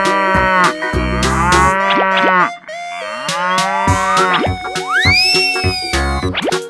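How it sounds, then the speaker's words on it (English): A cow moos over a playful cartoon-style soundtrack, with long tonal calls sliding in pitch among bouncy boing and plop effects, loud and close throughout. "Cow."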